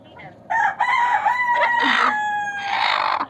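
Hens and a rooster at a farm where eggs are being collected give loud, close clucks and a drawn-out crowing call, with several overlapping bursts over a few seconds.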